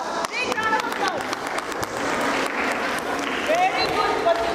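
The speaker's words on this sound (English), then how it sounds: "Big round of applause." Applause at a parents' workshop in a school, a mix of clapping and crowd noise with children's voices and chatter throughout, moderately loud and fairly continuous.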